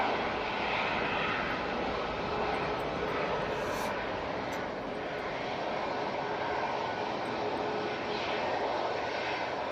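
An airliner arriving at Manchester Airport during Storm Amy, a steady broadband engine roar holding for the whole stretch, with no clear change in loudness and wind noise mixed through it.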